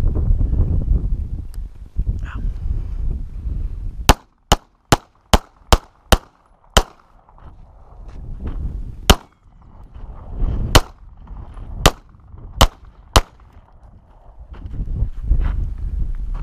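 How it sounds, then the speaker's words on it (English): Handgun point shooting while moving outdoors, twelve sharp shots fired: a quick string of seven close reports, then five more spaced irregularly, with footsteps and rustling of movement between and around them. "I shot 12 rounds"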